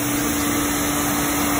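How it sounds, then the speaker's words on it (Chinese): A 5-horsepower motor driving the pump of a garden automatic sprinkler system that draws rainwater, running with a steady even hum and high whine, close and continuous. "这是马达的声音"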